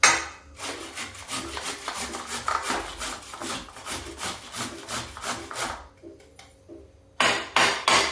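Cauliflower grated on the large holes of a metal grater: steady, loud rhythmic rasping strokes for several seconds, a brief pause, then a few more strokes.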